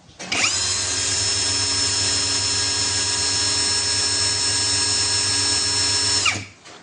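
A 16.8 volt cordless drill spins up and runs steadily at speed, a loud close whine with a constant motor hum that holds for about six seconds before winding down.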